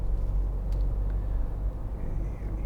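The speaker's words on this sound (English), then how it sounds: "And I'll try and show you the diesel engine again." A 2013 Nissan Note 1.5 dCi diesel runs with a steady, low, droning rumble heard close and continuous, with no one talking.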